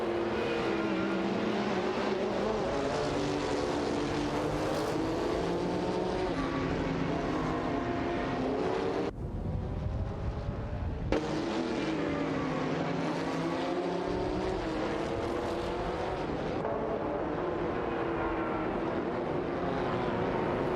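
Race cars, a Toyota 88 CV and a Peugeot 905, roar through a racing video game with steady, loud engine drones whose pitch rises and falls through gear changes, with no voices.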